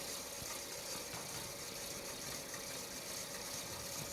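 A woodturning lathe motor runs steadily at its 280 RPM thread chasing speed, a constant even mechanical drone with broad hiss, faint and unchanging for the whole stretch.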